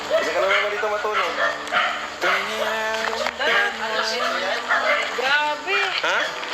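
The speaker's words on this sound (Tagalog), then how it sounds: "Dito na yung mga aso. Ba't ang sisitahulan?" Several dogs bark and yip in bursts, fairly close, with excited whimpering mixed in, while people talk over them throughout.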